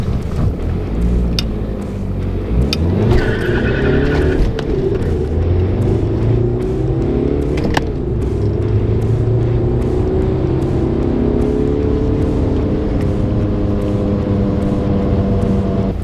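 Car launching hard from a standstill during a timed 0-100 acceleration run, engine note climbing steadily through the gears, loud and continuous with no talk.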